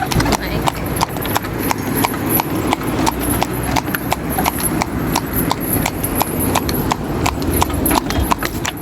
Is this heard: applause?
no